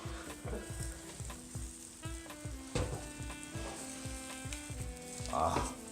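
Veal slab for veal parmesan sizzling in a frying pan with butter and olive oil, a steady crackling fry held throughout at moderate volume, with a faint tonal music bed underneath and no voices.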